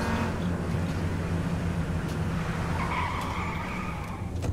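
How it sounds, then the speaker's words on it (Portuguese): Car in the H1Z1 video game skidding and driving, a loud sustained engine drone with tire scrub and squeal running throughout. "Pra mim o carro tá andando sozinho, mano."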